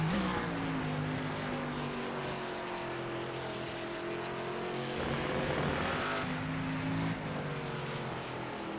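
Several race cars at Watkins Glen rise and fall in engine pitch as they brake into corners and accelerate out, with a steady, moderately loud drone and no voices.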